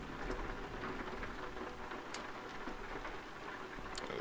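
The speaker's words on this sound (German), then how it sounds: "Es regnet immer noch, crazy." Steady rain falls and patters continuously on surfaces nearby, a soft even hiss with scattered sharper drop hits, and no voices present.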